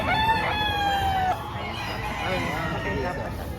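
A rooster at a gamefarm crows loudly and close at the start, the call sliding down and fading, while other chickens and roosters carry on in the background with a voice nearby.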